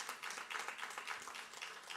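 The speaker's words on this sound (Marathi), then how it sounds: "त्यांच्यासाठी सुद्धा जोरदार टाळ्या होऊ द्या" An audience at an entrepreneurship awards event claps for the organisers: a dense, steady round of many hands applauding, fairly faint and distant, with no voices over it.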